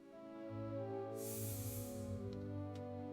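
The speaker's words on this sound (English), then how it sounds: "I spray perfume." A short burst of perfume spray hisses for about a second, bright and close, over steady background music.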